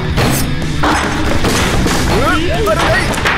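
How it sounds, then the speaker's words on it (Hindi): A loud, chaotic burst of crashing and booming impacts, like a drum set being smashed, with clattering debris and a voice talking over it. "ओ, तुमने ड्रम सेट तोड़ दिया।"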